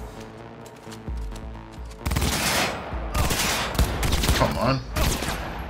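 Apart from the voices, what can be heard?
gunfire from the video game Cyberpunk 2077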